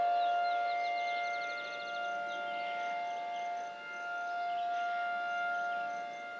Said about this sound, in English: Air raid siren, maybe?